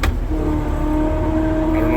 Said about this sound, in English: I don't know if you can hear that, but that's how cold the hydraulics are.